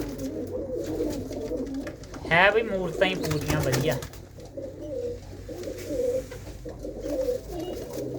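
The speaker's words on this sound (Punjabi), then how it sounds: "ਇਹਦੇ ਵਿੱਚ ਕੁਝ ਬੱਚੇ ਆ ਤੇ ਕੁਝ ਵੱਡੀਆਂ ਕਬੂਤਰੀਆਂ ਨੇ" Inside a loft holding young pigeons and adult hens, pigeons coo in a steady low chorus, with a louder warbling call up close and someone speaking over it.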